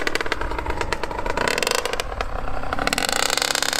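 A CR85 dirt bike engine revs hard and continuously with rapid, rattling clatter, loud and close throughout, with no talk over it.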